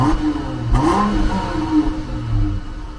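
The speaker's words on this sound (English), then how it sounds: "Signature 12 valve sound coming up." A Cummins 12-valve diesel engine in a shop truck revs up and back down several times in swells, loud and close, with its deep rumble holding steady between the rises.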